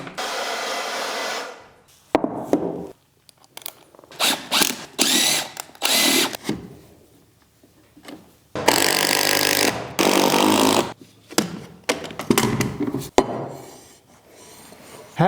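A power drill backing screws out of a wooden subfloor, heard in loud whirring bursts of varied length separated by brief pauses, with no talking.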